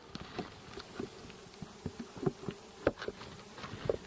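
Honeybees buzz around close by a hive in short, intermittent passes after a nuc transfer, each whir rising and fading against a quiet background.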